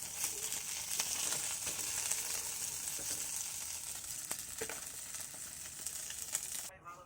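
Chang fish frying in oil gives a steady, close, hissing sizzle with faint crackles that holds for about seven seconds before cutting off abruptly.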